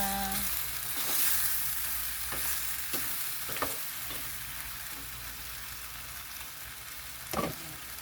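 Mixed vegetables sautéing in a pan, with a steady low sizzle and intermittent scraping stirs of a utensil against the pan, several distinct strokes spread across the clip and one louder scrape near the end.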